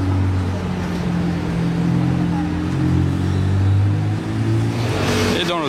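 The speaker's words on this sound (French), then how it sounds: "J'aime bien vous filmer les voitures montées l'avenue d'Ostende" Cars driving up avenue d'Ostende in Monaco, a steady close engine rumble with low droning tones that builds slightly toward the end as a vehicle passes.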